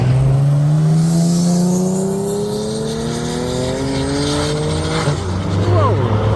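V8 hot rods rev and roar past at a car meet, loud engines climbing through gears with tire squeal near the end, voices audible underneath.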